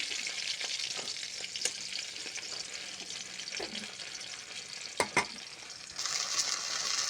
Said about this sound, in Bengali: ভিতরে কাঁচা থাকতে পারে, তো আমি আস্তে আস্তে ভাজি করব